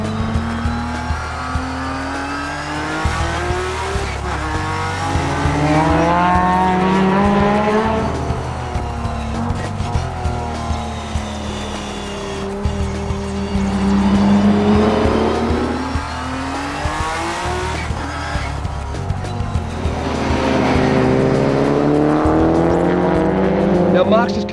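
Race cars lap the track during a busy open practice session, their engines climbing and falling in pitch as they pass one after another in a continuous loud drone, with tyre noise mixed in.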